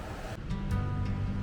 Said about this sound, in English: Unless the waves breaking gets too much noise for us, then we might move again.